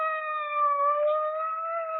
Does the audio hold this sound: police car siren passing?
yes